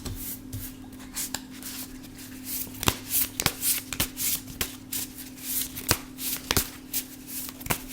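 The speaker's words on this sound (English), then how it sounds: "I like to shuffle my cards in front of you guys so that it comes out fresh" A deck of tarot cards being shuffled by hand close to the microphone, a quiet background hum beneath a series of soft riffling bursts and sharp snapping riffles that repeat in an irregular rhythm.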